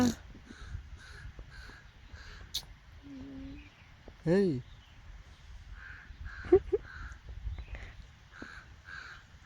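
Crows caw outdoors in a few scattered calls, one louder and nearer than the rest, over a steady background of people talking.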